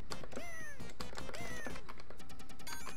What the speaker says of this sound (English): every enemy dies with that same sound effect. That sounds kind of like a cat being kicked.